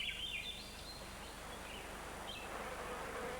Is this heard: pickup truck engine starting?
no